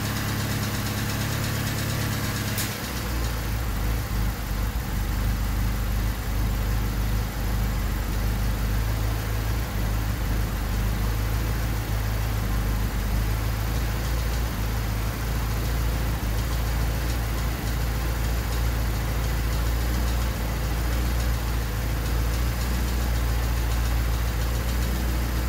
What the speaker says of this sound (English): Notice the click right before the idle starts going weird.